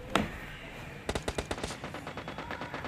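PUBG Lite game gunfire: one sharp shot, then a rapid automatic burst of evenly spaced shots trailing into quieter distant fire.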